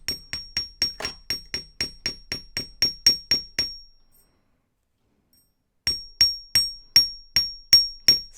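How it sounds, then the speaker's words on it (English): A hammer flattens a wire jewelry finding in sharp, close metallic taps, about a dozen evenly spaced, then a short silence and a second run of strikes. "if you want a stable finding, the best way to do is to hammer"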